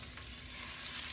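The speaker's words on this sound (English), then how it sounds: "Mix the garlic in this hot skillet. Then we're going to toss in the shrimp" Shrimp and garlic sizzle in a hot skillet, a steady, close frying hiss that runs for the whole short clip.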